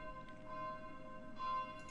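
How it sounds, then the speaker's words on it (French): Church bells ringing from a nearby church on a snowy Sunday evening in Lausanne, heard faintly from indoors as a few ringing strikes with lingering tones over a quiet room. "peut-être que vous entendez les cloches qui sonnent chez moi"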